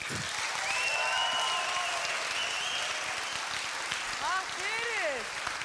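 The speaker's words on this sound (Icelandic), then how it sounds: "Viljið þið gefa henni gott klapp?" A church congregation claps warmly for a choir singer during a Sunday service, steady applause filling the room for several seconds while voices talk and call out over it.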